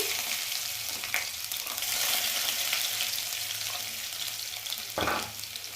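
Garlic with a pinch of hing powder sizzles in hot oil in a kadhai, giving a steady, close crackling hiss with a few louder stirring scrapes and no voices.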